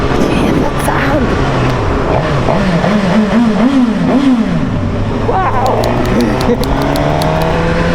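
2023 Suzuki Katana motorcycle engine revving up and down while riding, a loud close-up engine note rising and falling through gears before settling into a steady drone, with a voice speaking over it.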